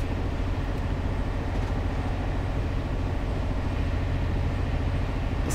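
A Class 66 diesel freight locomotive in Train Sim 19 rumbles steadily with a continuous low engine drone and rolling wagon noise, loud and unbroken, with no talking.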